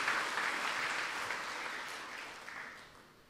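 A church audience applauds during a sermon, a dense, fairly faint wash of clapping that slowly fades over a few seconds.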